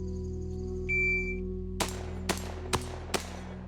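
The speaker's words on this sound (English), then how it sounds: "Three-gun shooting." Four sharp gunshots at a three-gun shooting match ring out at moderate distance in a quick irregular sequence, preceded by a brief electronic beep over steady background hum.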